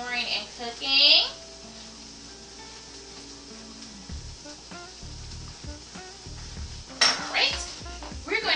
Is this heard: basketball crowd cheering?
no